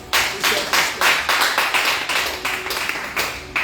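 A congregation claps together to acclaim God, a loud, steady run of about seven claps at an even rhythm, with no talking.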